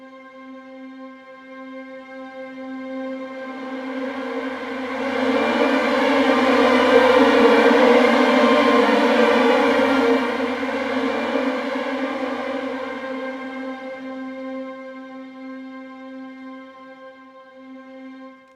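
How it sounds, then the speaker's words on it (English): A sustained string texture of glissandi holds a steady tone, slides into a dense, blurred cluster at its loudest middle, then thins back out and fades. "progress from a tonal sound"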